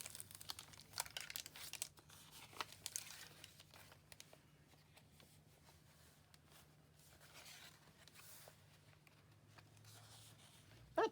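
Baking paper pages of a handmade book crinkle and crackle in soft, irregular bursts as they are handled and turned, quiet and close with no talking.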